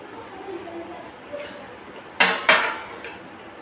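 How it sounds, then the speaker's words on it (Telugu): A thick kadai is set on the stove over a medium flame, producing two sharp metallic clanks close together near the end, with soft background noise and faint talk before them. "ఒక మందపాటి కళాయిని పెట్టుకుందాం"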